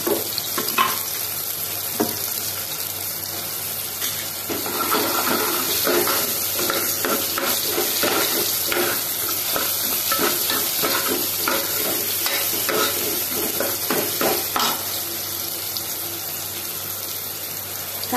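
Onion fries to a reddish brown in a pan for a spicy white pea usal, a loud, dense sizzle with constant stirring and scraping, close and uninterrupted.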